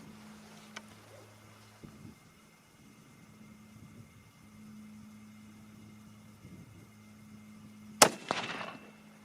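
A single sharp gunshot at a pumpkin outdoors, loud against a quiet background with a faint engine-like hum, followed by a brief ringing echo.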